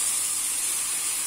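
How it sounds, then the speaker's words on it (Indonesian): Hot water rushes into a pot of boiling Mie Gomak noodles, a steady, loud hissing pour that runs without a break. "Tambahkan air panas ya."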